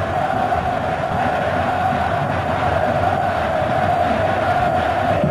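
Vitória supporters roaring in the stands during the 1993 Brasileirão final first leg against Palmeiras, a dense continuous crowd din, distant and unbroken, with no distinct voices.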